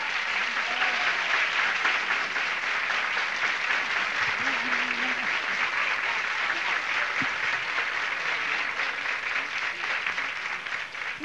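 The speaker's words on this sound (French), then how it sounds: "On les applaudit bien fort, tout le monde." A studio audience at a 1981 Québec television variety show applauds loudly and steadily, a dense unbroken wash of clapping that holds for the whole stretch with a faint voice briefly beneath it.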